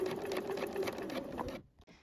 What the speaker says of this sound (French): on va réaliser une surpiqûre ici à 2 mm du bord